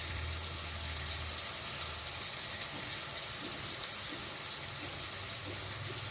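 Potatoes fry in a kadai with panch phoron during shukto cooking, giving a constant soft sizzle and hiss, quiet and close with no voices.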